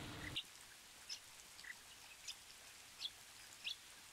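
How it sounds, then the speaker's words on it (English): Faint, sharp bird chirps ring out one at a time, about five over a few seconds, against a quiet hiss of rain in the rainforest. "And the birds are kind of going crazy too."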